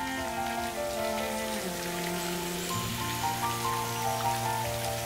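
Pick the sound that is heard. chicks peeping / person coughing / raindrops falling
raindrops falling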